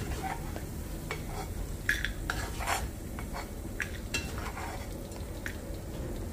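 Spices such as mustard seeds, urad dal and chana dal crackle and sizzle in hot oil while a metal spoon scrapes and clinks against the pan, close and moderately loud, without speech.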